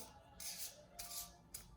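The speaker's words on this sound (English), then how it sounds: "Think about Prince Harry as you shuffle" Russian Gypsy fortune-telling cards are shuffled in three quick, soft, papery riffles, close but faint, with no voice over them.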